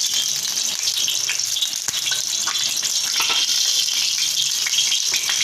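Hot oil sizzles steadily on a tawa for kaleji fry, a continuous bright hiss with small crackles throughout, alone without talk.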